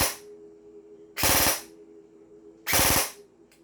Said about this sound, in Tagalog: Tignan nyo yung rapid fire ko, mga Airsoft, ha.